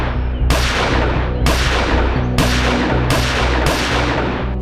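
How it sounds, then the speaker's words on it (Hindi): Rapid gunfire from a man shooting at people in a crime drama scene, heard as loud, sharp bursts recurring roughly every second over a dense, continuous roar with no voices. "फिर अचानक गोलियों की आवाज सुनाई दी"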